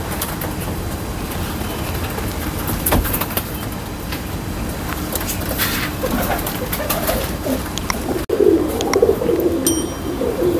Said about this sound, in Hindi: फुल तेजी से आसमान में जाने वाले कबूतर।